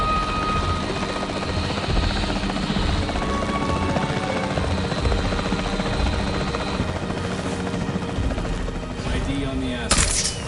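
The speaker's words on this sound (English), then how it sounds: "The priority needs to be tranquilizing it with the capture team chopper." Capture team helicopter in the video game Jurassic World Evolution 3, a steady loud rotor drone filling the whole stretch with mechanical clatter and a sharp burst near the end.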